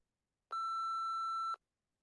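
An answering machine gives a single steady electronic beep lasting about a second after its greeting, clean and alone, with silence before and after.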